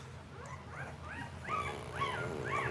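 A red-nosed male game dog whimpers at a kennel, a run of high, rising whines repeated several times over a steady low background rumble, with no voices.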